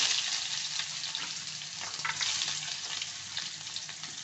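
Garlic, cumin seeds and onion fry in hot oil in a pan, making a steady, moderately quiet sizzle with occasional crackles and stirring, with no talking.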